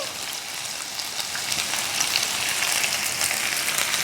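Chopped onion goes into a hot, preheated pan ahead of capsicum, giving a loud, steady, hissing sizzle that swells slightly midway and carries on evenly.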